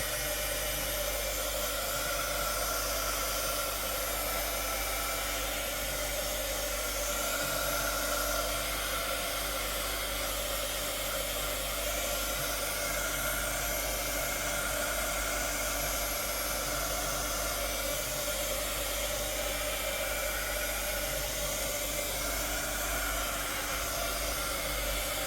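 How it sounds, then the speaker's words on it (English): A heat gun blows steadily to dry craft work, a constant loud whooshing hiss with a low hum underneath, unbroken for the whole stretch with no talk. "give it a bit of dry off with the heat gun"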